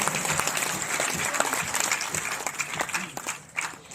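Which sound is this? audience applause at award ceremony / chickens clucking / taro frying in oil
audience applause at award ceremony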